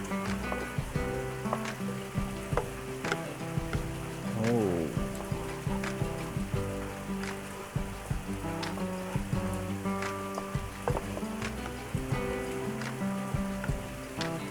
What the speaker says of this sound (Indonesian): Kita masak sampai minyaknya keluar.